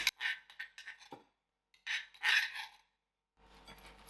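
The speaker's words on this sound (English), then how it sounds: "Give this a mix." Roughly crushed garlic being mixed into whole chillies for a pickle, heard as short scraping and rubbing bursts of spoon against bowl, with pauses between strokes and a quieter stretch of stirring at the end.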